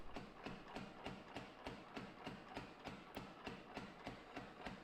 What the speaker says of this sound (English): Using the power hammer here.